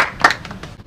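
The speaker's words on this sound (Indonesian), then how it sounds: "Tepuk tangan dulu dong." A short burst of audience clapping during a talk show, a brief sharp cluster of hand claps that fades quickly within a second.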